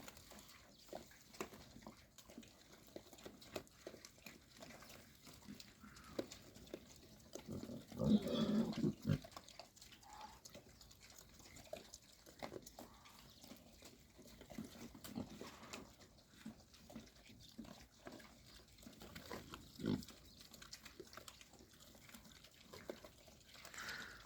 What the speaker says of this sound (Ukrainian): Ці поросятка малі посотолочують.